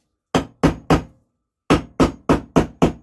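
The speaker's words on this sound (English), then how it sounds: "Then tap it in, making sure it goes in square." Sharp metallic hammer taps drive a bearing in with a socket during a rebuild of a WW2 JAP 2A generator set: three quick knocks, a pause, then six more evenly spaced, loud and close.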